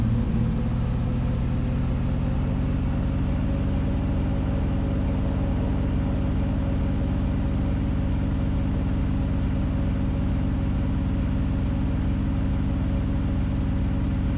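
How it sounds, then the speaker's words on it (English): A square-body truck's 454 engine rumbles steadily with a deep, continuous low drone and a constant idle hum, loud and close, with no talking. "I love my square body truck. The sound of that 454"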